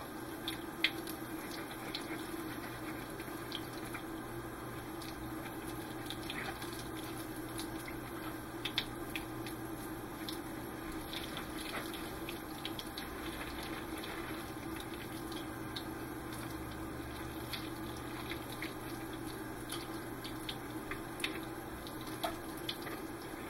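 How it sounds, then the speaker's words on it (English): Water runs steadily from a sink tap as clear plastic model kit parts are rinsed, a soft continuous wash with faint splashes and no speech. "after I've rinsed all these off and started letting them dry and cleared out this side of the sink"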